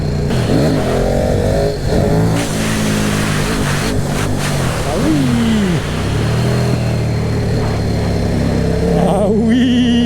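A KTM RC8R motorcycle engine revs up and down close by, pitch rising and falling repeatedly, with brief idling between bursts.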